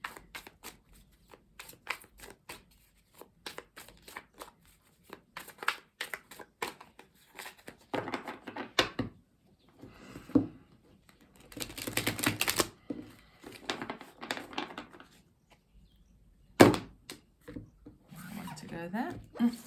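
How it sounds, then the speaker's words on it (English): A deck of tarot cards, including a mini Rider-Waite deck, is cut and shuffled up close, giving bursts of quick riffling, sliding card clatter and soft taps, with intermittent talk. "And I will cut the deck, but we will clarify with the mini Rider-Waite."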